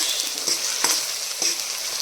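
Tadka for chickpeas sizzling steadily in hot oil, a loud continuous frying hiss with occasional sharper crackles and pops.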